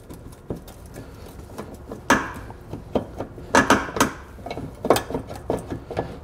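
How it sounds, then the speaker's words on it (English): A flat blade screwdriver pries at a stuck plastic push fastener under the bumper of a 2018 Nissan Pathfinder. It makes a string of close, sharp clicks and scraping snaps at an irregular pace. "we're gonna take a flat blade screwdriver and we're gonna remove this push fastener here at the bottom"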